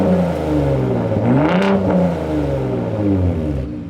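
A Ford Raptor truck's engine in Baja mode revs up to about 3,000–4,000 RPM, a loud, steady, close-up roar with rising and falling pitch sweeps throughout and no talking.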